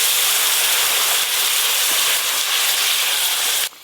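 Spices and a dried chilli drop into hot mustard oil for a village-style bitter gourd shukto, giving a loud, continuous bright sizzle and hiss close by that cuts off sharply near the end.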